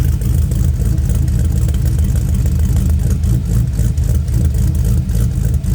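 A car engine rumbles loudly and steadily through its exhaust, with deep low-end throb and light revving surges throughout, no talk.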